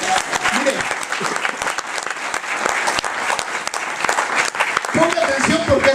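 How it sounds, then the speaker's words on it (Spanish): A church congregation applauds during a Spanish-language sermon, loud, dense clapping with sharp individual claps standing out, a few voices calling out over it and a speaking voice near the end. "Denle un fuerte aplauso al Señor"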